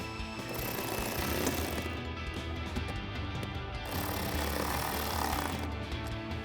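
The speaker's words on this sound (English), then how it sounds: "Now I'll take a 7mm socket and tighten these 2 down." A socket wrench tightens factory bolts while a RedRock fender flare is fitted to a 2021-2023 Ford F-150, giving a continuous rapid mechanical rattle with a short pause in the middle.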